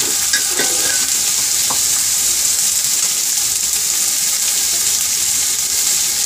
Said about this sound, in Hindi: पाँच मिनट तक अच्छी तरह मसाले को भूनेंगे।